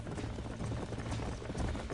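Horse hooves clip-clop steadily in Red Dead Redemption, a continuous trotting rhythm over a dense low rumble of game ambience.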